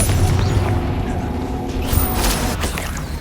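A Confringo fire spell from Hogwarts Legacy blasts with a deep rumbling boom over a busy mechanical, clattering game soundscape, loud and sustained with a few sharp transient hits.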